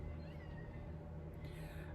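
A cat meows faintly against a low steady background hum, the soft calls sitting under noise rather than standing out clearly.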